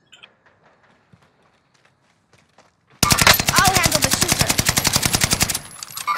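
Rapid automatic gunfire in the video game Call of Duty: Vanguard, battle royale duos mode, bursting in loud and close after a near-silent stretch with faint footsteps, then rattling in a fast sustained stream.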